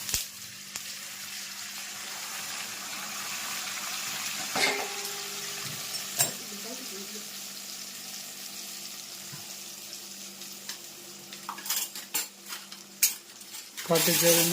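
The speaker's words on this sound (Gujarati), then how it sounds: "પછી આમાં નાખી દેવાનો વઘાર કાટેચરીનું" Hot oil tempering with cloves and peppercorns is poured into a pickle mixture in a home kitchen, giving a soft continuous sizzle with metal spoon clinks and stirring scrapes, close by and moderately quiet.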